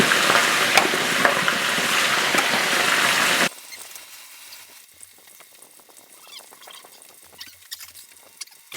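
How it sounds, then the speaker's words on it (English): Chicken wings, a second batch, frying in hot oil that has recovered its temperature: a loud, dense sizzle for about three seconds, then dropping to a quieter crackle and pop with scattered bursts, no talk. "Sizzling away."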